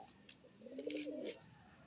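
Old-line desi high flyer Giribaj pigeons give a single soft, drawn-out coo, fairly faint and close, with a few light chirps around it.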